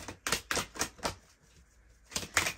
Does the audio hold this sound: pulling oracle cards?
yes